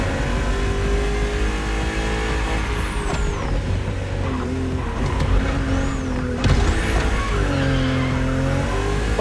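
BMW M2 and M4 race cars from the 2013–2014 series in The Crew Motorfest, with engines roaring and revving steadily and tires squealing through sharp bends on a narrow road, loud and close throughout.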